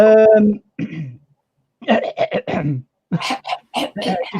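Repeated nearby coughing and throat-clearing in short, choppy bursts, preceded by a brief voiced sound.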